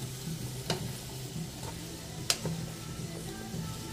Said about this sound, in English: Saute the vegetables until softened.